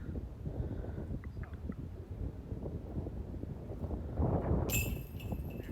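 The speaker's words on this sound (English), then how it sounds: "It is definitely quite windy out." Wind gusts across an open disc golf course, a steady low rumble buffeting the microphone throughout, swelling briefly near the end before a bright metallic clink.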